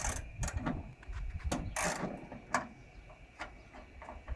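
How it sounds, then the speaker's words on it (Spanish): Ratchet wrench unscrewing a bolt on a Cupra Formentor, heard as a series of sharp close clicks and scrapes in uneven bursts against a low mechanical background. "Y luego con una carraca desenroscamos"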